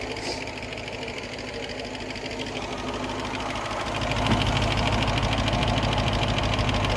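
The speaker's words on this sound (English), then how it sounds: "we've got idle speed around 750" 1972 Range Rover engine idling around 750 rpm, a steady close mechanical rumble with regular ticking, growing slightly louder and fuller partway through.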